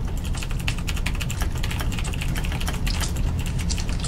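Fast, continuous typing on a computer keyboard during a game stream, dense clattering keystrokes close to the mic and loud throughout, no speech.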